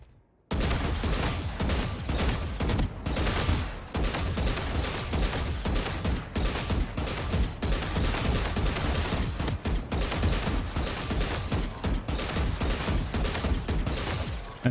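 Rapid gunfire from an aim-training video game on PC: a near-continuous stream of sharp, loud shots in quick succession, starting abruptly after a brief silence and keeping up a relentless rhythm.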